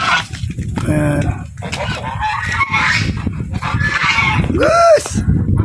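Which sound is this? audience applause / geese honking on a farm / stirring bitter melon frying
geese honking on a farm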